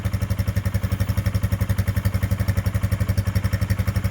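Carburetted engine idling on choke after a hard cold start, a loud close-up rapid, even thumping beat with a slight mechanical clatter, steady throughout with no talk.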